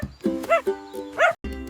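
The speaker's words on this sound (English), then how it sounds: "Our first friend is a dog." Cartoon-style dog woofs in a children's farm-animal nursery song: two or three short, tuneful barks in quick succession, close and clear, and likely voiced rather than from a real dog.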